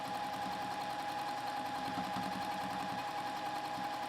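A sewing machine stitches steadily over a line of basting stitches, a continuous close whirring hum that holds level throughout with no pauses.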